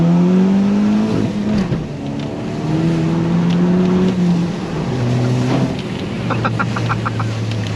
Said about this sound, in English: That is a diesel.